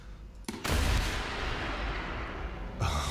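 A rocket-boosted APFS missile fires from a LOSAT vehicle in a video game: a sharp blast, then a loud, sustained roaring rush that holds steady before another swell at the end, with no talk.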